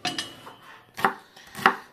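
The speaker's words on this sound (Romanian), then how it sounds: "se taie ceapa mărunt" Onion being finely chopped with a knife on a board, three crisp separate chops spaced about half a second apart, close and fairly loud with no talking.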